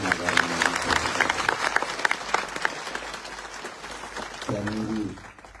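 Loud applause from a crowd at a Maratha community gathering in Antarwali Sarati, with dense clapping that fills the whole stretch, runs under a voice, and eases toward the end.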